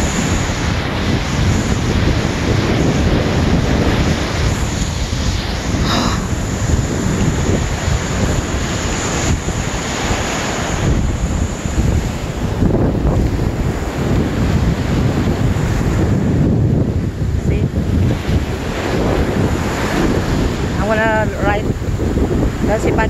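Rough surf and strong wind on the beach at Fort Lauderdale, Florida, heard as a loud, constant roar with wind buffeting the microphone, and brief voices now and then.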